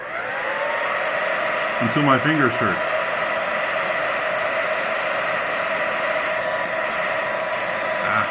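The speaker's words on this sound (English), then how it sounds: "This requires a hair dryer. I have no hair, but I'll borrow the wife's." A hair dryer blows continuously at close range, heating a warped plow part, a steady loud whooshing hum that runs throughout while someone speaks briefly over it.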